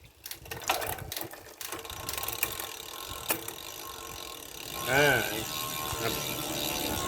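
Bicycle rear derailleur shifting the chain up onto the largest rear sprocket while the cranks turn, giving ratcheting, clicking mechanical chatter with a brief louder grinding whir near the end, close and moderately loud.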